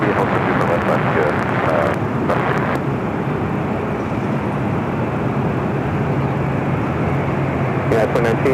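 Jet airliner at Los Angeles LAX airport, a loud steady engine roar that holds dense and broad throughout, with faint radio-style talk breaking in near the start and at the end.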